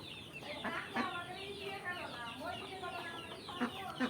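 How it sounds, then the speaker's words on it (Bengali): A rooster clucks and calls in repeated bursts at moderate distance on a duck and chicken farm, over steady background noise, with some voices mixed in. "মোরগ"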